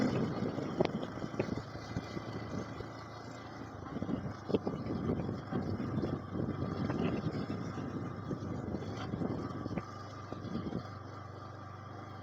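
A 2024 Yamaha R15 V4 motorcycle ridden on a road, a steady engine drone mixed with heavy wind rush across the microphone, continuous and fairly loud with small surges in intensity and no talking.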